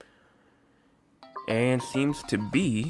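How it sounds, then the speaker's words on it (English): A mobile phone ringtone gives a brief electronic chime, quickly covered by someone talking steadily during a weather forecast broadcast. "that was my phone ringing"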